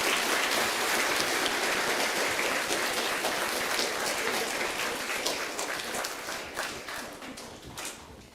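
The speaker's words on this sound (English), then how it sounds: "Can we please give them a round of applause?" A school assembly crowd at Casebrook Intermediate applauds award recipients, a dense, loud roar of many hands clapping that gradually thins and fades toward the end.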